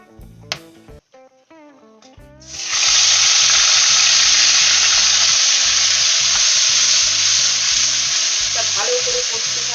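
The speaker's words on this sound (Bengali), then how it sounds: "আর কড়াইয়ের মধ্যে আমি একটু ফোড়ন দিয়ে দিচ্ছি এলাচ, দারচিনি, লবঙ্গ দিয়ে" Cardamom, cinnamon and cloves hit hot oil in a wok, bursting into a loud, sustained hissing sizzle after a few light clicks, with soft rhythmic music running underneath throughout.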